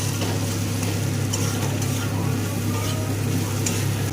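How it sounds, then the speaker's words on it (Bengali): Chicken kosha curry, Bihari-style chicken cooked Bengali fashion, being stirred and fried in a pan after salt is added, giving a steady close sizzle with scraping stir sounds throughout. "এবার ভালো করে এটাকে আবারও একটু কষিয়ে নেব।"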